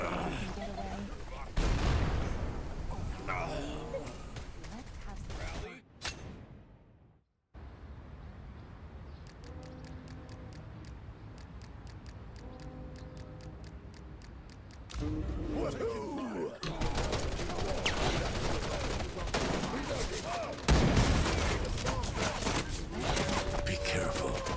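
Gunfire in the shooter Wild Assault comes as rapid cracking bursts and sustained automatic fire, broken by a brief silence and a quieter stretch of repeated clicks, before heavy shooting resumes and continues loudly to the end.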